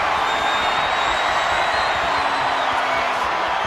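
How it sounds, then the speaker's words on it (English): A wrestling arena crowd in the video game WWE 2K25 roars steadily throughout, a dense, loud wash of cheering with no break. "Listen to this crowd."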